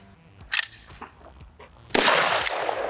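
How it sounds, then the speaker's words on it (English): A nickel-finished SDS Tokarev TX3 shotgun fires one loud, sharp shot that rings out and decays. A smaller crack comes before it, with a quiet outdoor background. "This is my first time to shoot a Tokarev shotgun."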